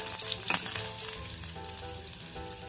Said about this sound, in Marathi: तेल छान तापलंय, चमचाभर मोहरी, लसूण छान फ्राय होऊ दे